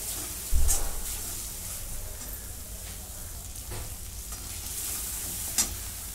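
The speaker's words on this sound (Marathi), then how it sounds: "आता मसाला चांगला परतून झालेला आहे" Red masala spice paste frying in a pan for mixed vegetable bhaji, a steady close sizzle with scraping stirs and a couple of sharp clanks of the spoon against the pan.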